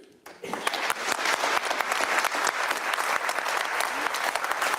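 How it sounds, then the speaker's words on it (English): A debate audience at a Sunak versus Starmer televised face-off bursts into loud, sustained applause after a brief pause, with thick clapping that holds strong to the end. "Who's clapping that?"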